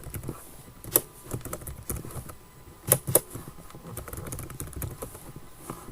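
Quiet typing on a computer keyboard while entering data in MS Office, with soft scattered key taps and a few sharper clicks, heard alone at low level.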